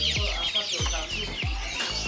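Cemani chickens cluck at a bird stall, short repeated clucks about every half second, fairly close over a busy background of other birds.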